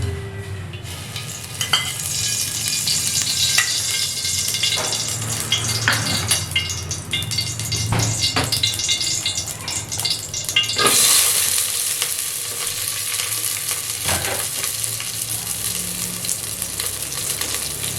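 Spices and curry leaves for a tadka crackle and sizzle in a spoon or two of hot oil for a jackfruit seed and tamarind huli, with a steady fry under occasional stirring clinks of a utensil against the pan.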